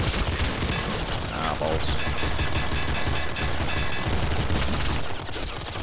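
The Director shotgun fires in Nuclear Throne amid a dense, constant barrage of blasts and explosions that stays loud throughout, with a brief spoken exclamation in the middle.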